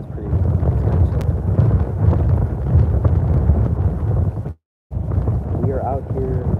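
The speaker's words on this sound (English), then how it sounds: "That is a cold wind. It's really windy." Cold wind buffets a small fishing boat out on the water, a loud continuous roar of gusts across the microphone, dropping out briefly and then resuming with faint voices underneath.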